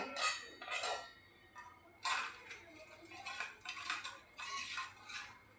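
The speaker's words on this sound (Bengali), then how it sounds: "তেলটাও ছেঁকে নিচ্ছি, একটা বাটির মধ্যে ছেঁকে নিলাম।" Oil is strained through a metal strainer into a bowl, giving a run of light metallic clinks and scrapes in several short bursts, close and fairly clear with no voices.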